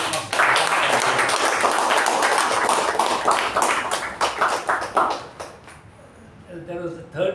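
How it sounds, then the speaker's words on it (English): A Toastmasters club meeting audience bursts into sustained applause, dense overlapping claps filling the room for about five seconds before thinning into scattered claps and fading. "So let's give a round of applause to both the Toastmasters."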